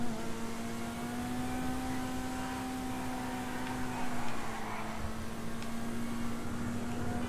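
Custom car engine in the video game GTA V Online hums at a steady, fairly quiet idle pitch, an even drone that holds without revving.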